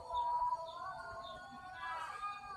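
A male prinia calls just after release outdoors, a thin, wavering chirping trill that is faint and fairly close, with soft background noise.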